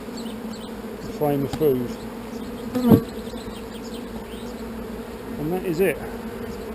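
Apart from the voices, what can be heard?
bee swarm buzzing, artificial swarm in hive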